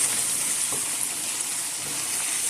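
Mutton keema with coriander and chopped ginger sizzles softly on a hot tawa as it is stirred, a faint steady crackle with light scraping touches.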